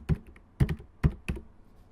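Keys on a computer keyboard tapped while entering a password during a WordPress login on a local server: four distinct, close keystrokes in an uneven rhythm, clear and free of talk.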